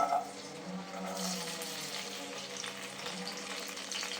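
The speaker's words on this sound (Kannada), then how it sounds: "ಸ್ವಲ್ಪ ಫ್ರೈ ಆಗಲಿ." Chopped onion frying in oil in a pan gives a steady, close sizzle with soft crackles and a faint stirring scrape throughout, with no voices.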